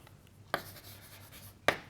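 Chalk or marker strokes on a board during a math lesson, with a soft steady scratch and two sharp taps as the writing starts and ends, close and quiet with no talk.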